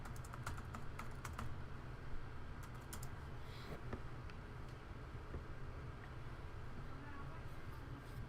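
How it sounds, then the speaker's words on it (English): Fingers typing on a computer keyboard, a brisk run of close clicking keystrokes in bursts over a steady low fan-like hum. "I'm going to type it in the chat here."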